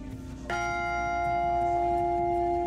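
A large church bell, cast in 1937 and rung for a translation procession, strikes once and rings on with a long, sustained metallic hum and shimmering overtones, clear and close, slowly decaying.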